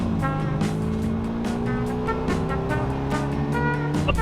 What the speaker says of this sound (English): Time to go drive the Mini to lunch.